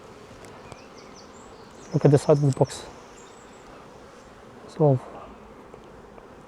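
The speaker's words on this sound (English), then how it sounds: "full of bees, all of them here." Honey bees in an open beehive box give a constant, close swarm buzz with no pauses, while a person talks briefly over it.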